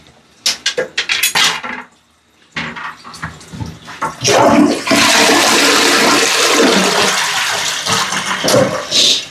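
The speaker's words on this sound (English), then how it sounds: "Obviously, it's not going to flush well with the back cover on" An apartment toilet, clogged with an HDMI cable, flushes loudly after a few short knocks and clatters, rising into a sustained rushing gush of water that runs steadily to the end.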